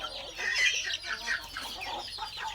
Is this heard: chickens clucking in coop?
yes